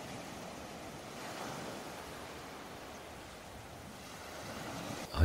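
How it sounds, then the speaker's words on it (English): Ocean waves wash onto a beach in a steady, soft, broadband rush that swells and recedes gently, with a slightly louder surge near the end and no voices. "as you just listen to the waves."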